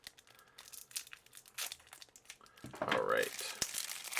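Someone opens the crinkly wrapper of a trading card hero pack, with crumpling and tearing rustles that swell into a louder crinkle toward the end, while a person says a brief word.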